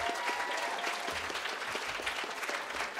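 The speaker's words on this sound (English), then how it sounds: "So give them a big round of applause" A dense round of applause fills the hall at an evening care awards ceremony in 2018. Many hands clap together in a steady, sustained wash with no speech.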